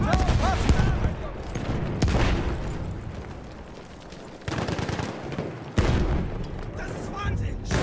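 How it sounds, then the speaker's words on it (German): A Battlefield 1 battle roars with heavy gunfire and explosions. A sharp burst hits around the middle and another strong blast follows just after, loud and close, amid shouting voices. "Ich werfe eine Granate!"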